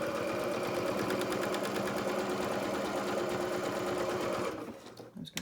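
A sewing machine runs steadily as it stitches a felt flower, giving a fast, even mechanical whir that cuts off near the end, followed by a few soft handling noises.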